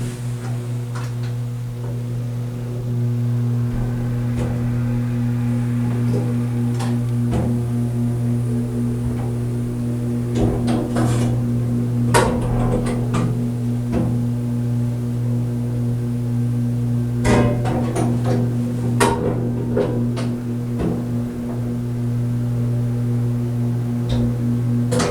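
An Atlas hydraulic elevator with a new motor runs in an apartment building, giving a steady low smooth hum with scattered clicks and knocks over the run.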